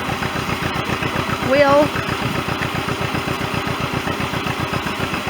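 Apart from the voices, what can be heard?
tractor engine running a hammer mill corn grinder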